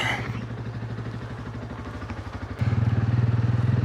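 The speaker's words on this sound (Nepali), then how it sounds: "म चाहिँ बाइक लिएर झर्छु।" A motorcycle rides down a rough mountain track in Mustang, its engine thumping in a close, steady rhythm that grows louder and deeper partway through.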